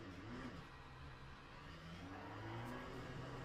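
A race car engine lapping Laguna Seca in a racing simulator game, heard as a steady, moderately loud engine drone whose pitch rises and falls with acceleration and gear changes.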